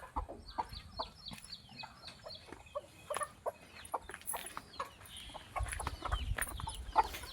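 Village hens cluck in a farmyard during rainy weather, giving short, repeated clucks at close to middle distance over a low, rumbling outdoor background.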